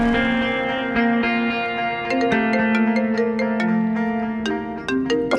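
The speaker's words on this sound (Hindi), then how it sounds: "फोन, उठाओ मानूर" A mobile phone rings with a steady, reverberant electronic melody of bright sustained tones and sharp plucked accents, loud and continuous, with no one speaking.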